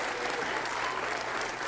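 Sustained audience applause fills a hall at the 11th annual ZMR award ceremony, dense steady clapping from a large crowd with no break across the short stretch.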